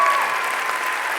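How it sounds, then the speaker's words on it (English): Audience applause at a martial arts (XMA) demonstration show, a dense steady wash of clapping that holds for the whole moment without a break and without anyone speaking over it. "Let's give them one more round of applause."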